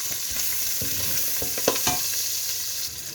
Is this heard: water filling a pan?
no